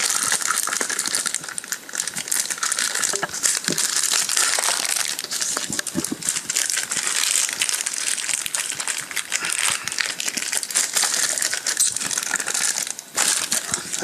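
Continuous crinkling and tearing of plastic and cardboard as BlackBerry Bold 9930 packaging is ripped open close up, with no one speaking.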